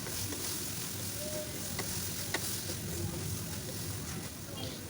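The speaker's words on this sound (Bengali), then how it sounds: "ঝরিয়ে রাখা সয়াবিনগুলো একে একে দিয়ে দিব। দিয়ে ভালোভাবে নেড়ে চেড়ে মিশিয়ে নেব।" Soybean chunks fry in hot spiced oil in a pan, giving a constant, fairly loud sizzling hiss with a few soft stirring knocks throughout.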